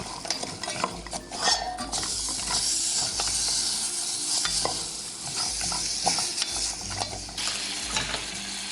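A tablespoon of butter melts and sizzles in a pan, giving a close, steady hiss with frequent utensil scrapes and clinks against the pan, and no talking.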